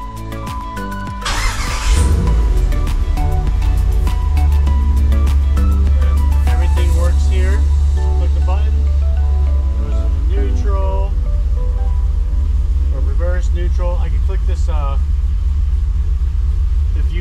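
A car with a swapped-in 8HP70 automatic transmission starting off and pulling away, a steady low engine rumble rising and settling through gear changes, with someone talking over it throughout.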